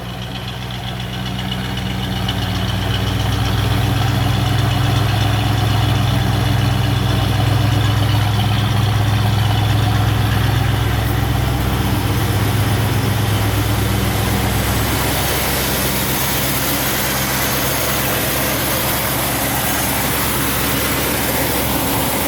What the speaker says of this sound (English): And this engine sounds perfect.